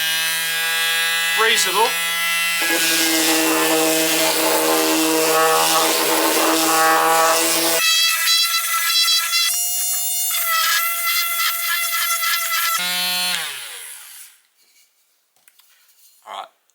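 A Bosch PSM Primo 50W detail sander buzzes loudly and continuously on rough 3D-printed plastic, its whine shifting pitch with pressure before cutting off near the end; someone briefly speaks over it.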